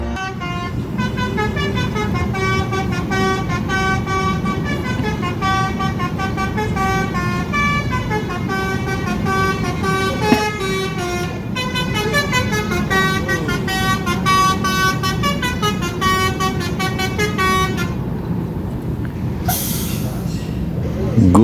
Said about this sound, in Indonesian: Sementara juga terlihat ini dia bus terbaru Gumarang Jaya yang line perdana pada